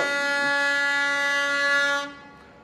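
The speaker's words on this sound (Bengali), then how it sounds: "এই যে দেখেন ট্রেন আসছে কিন্তু" A train sounds a long, loud, steady horn blast on a railway line as it approaches, holding for about two seconds before cutting off abruptly.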